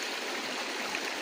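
Spring water flows in a constant close rushing trickle, brief and unbroken, with no voices.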